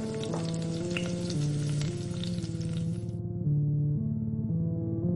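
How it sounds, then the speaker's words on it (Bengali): Fish sizzles in hot oil, a bright steady crackle for about three seconds that then drops away, while a continuous melodic music track plays underneath throughout. "মিতা সাধু বাবার দেওয়া তেলে মাছ ভাজতে লাগলো"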